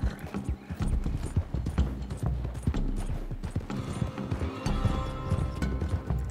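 Horse hooves clip-clop at a steady walking pace in Red Dead Redemption 2, close and clear, with creaking tack and light ambient game sounds behind them.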